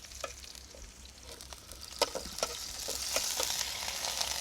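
Spices being stir-fried in a pan for a ripe hilsa fish dish give off a steady sizzle. Scattered scraping clicks from the stirring grow a little louder and denser toward the end, with no voices.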